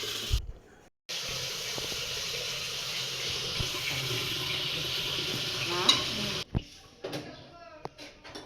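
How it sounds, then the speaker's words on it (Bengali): Rice is washed in water in a home kitchen, with a running stream and swishing splashes that stop abruptly, then a few clatters and faint voices. "এখন মা চাল নিয়ে নিচ্ছে, চাল ধুয়ে বসে দেবে"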